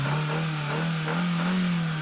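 A Hyundai Santro car engine revs steadily up close, a continuous mid-pitched drone that swells slightly without dropping off, heard alone with no talking.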